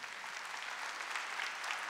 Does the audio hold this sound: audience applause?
yes